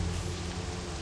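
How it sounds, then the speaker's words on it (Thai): Heavy rain in the zombie survival game Last Day On Earth pours down in a steady, dense hiss that fills the whole moment evenly, loud and continuous with no voices. "แล้วฝนตกหนักมากนะครับ"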